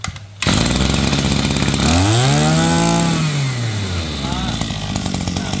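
A Mitsubishi TL26 brush cutter engine runs steadily and loudly up close, its high two-stroke buzz rising and falling in pitch as the throttle is worked.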